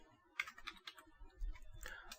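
Quick, soft keystrokes on a computer keyboard entering a Kali Linux command, a short burst of light clicks in a quiet room.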